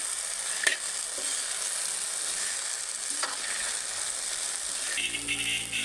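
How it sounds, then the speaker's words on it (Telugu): Cauliflower florets for gobi manchurian being stirred into sauce in a hot pan give a steady close sizzle with scraping stir sounds, a few sharper clicks of the spoon against the metal pan, and no talk. "గోబీ మొత్తాన్ని వేసేసుకొని మనం వేసిన సాస్ మొత్తం గోబీకి పట్టే విధంగా కలుపుకుందాం"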